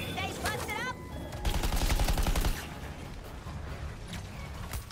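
Sniper gunfire in the Suicide Squad video game comes as a burst of rapid, loud shots, followed by game sound effects and background noise, with no talk.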